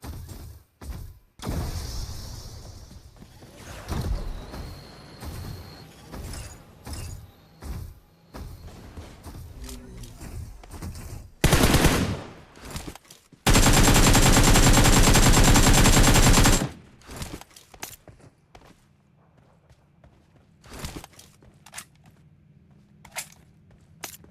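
Gunfire in PUBG Mobile, bursts of rapid automatic shots and single cracks throughout, with one long loud sustained burst in the middle, mixed with footsteps and game noise.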